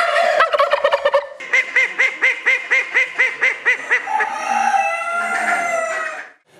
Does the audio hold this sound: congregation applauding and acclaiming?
no